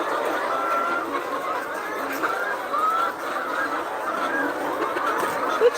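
A flock of laying hens over 100 weeks old clucks and squawks continuously, many birds overlapping in a busy, moderately close chatter with no speech.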